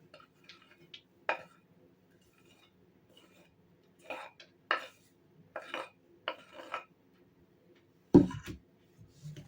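A spoon mixes black pepper, dill and chopped onion in a bowl, giving sparse, irregular clinks and scrapes against the bowl and ending in one louder knock, with quiet gaps between.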